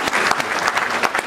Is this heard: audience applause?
yes